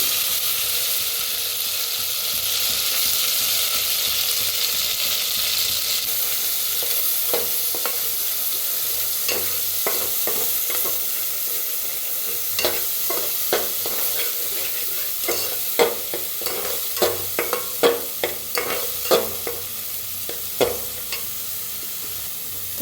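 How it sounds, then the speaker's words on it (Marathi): A ground coconut masala frying in hot oil in a pot for a village-style chicken curry, a steady close sizzle with repeated scraping stirs that grow sharper and more rhythmic toward the end, no voices. "तर मसाला भाजायला आला"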